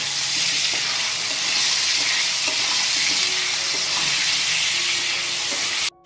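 Potato pieces frying in hot oil with salt sizzle in a loud, steady hiss, with occasional soft stirring clatters, close up and without any talk.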